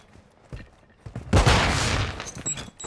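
Shotgun fire in an online shooter video game, a few sharp reports followed by a loud sustained burst of gunfire and echoing blasts, close and dense.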